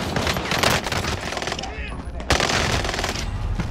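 Rapid automatic gunfire in Call of Duty: Modern Warfare rattles loudly and continuously, with bursts of machine-gun fire and a short lull near the middle before the shooting surges again; a voice is faintly mixed in.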